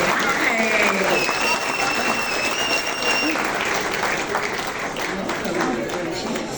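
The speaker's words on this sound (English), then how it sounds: "Please give them a round of applause as they make their way on stage." An audience claps steadily and loudly at a Hall of Fame induction for the 2007 Springbok rugby team, with a whistle and crowd voices mixed in as the applause carries on without pause.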